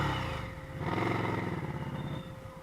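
An Indian Scout motorcycle with a stage 1 exhaust idles and revs, its deep pulsing rumble swelling partway through, then settling into a steady throb close by.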